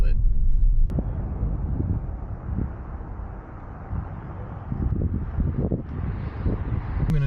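A 2024 Toyota Tacoma pickup truck drives along, its low engine and road rumble steady beneath continuous talk, with some wind noise buffeting the microphone.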